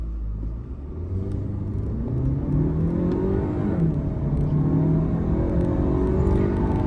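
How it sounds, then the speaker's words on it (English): An Audi Q3 Sportback S-Line engine revs hard during a launch with traction control off, a loud, close rising roar that climbs steadily in pitch through the gears, with no talk over it. "So launching this vehicle."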